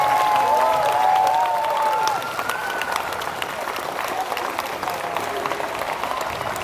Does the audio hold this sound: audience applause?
yes